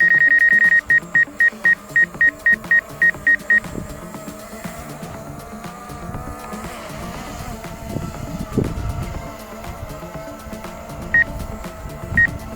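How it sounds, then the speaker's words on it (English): A DJI Mavic Air 2 drone controller sounds a rapid series of sharp, evenly spaced electronic beeps, then falls quiet beneath low background rumble before two more beeps near the end. "I hate that beeping."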